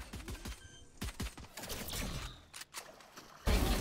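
Rapid bursts of video game gunfire from a tactical shooter match crackle in quick clusters, some dense volleys and sharper single shots, loud and close with brief gaps between exchanges.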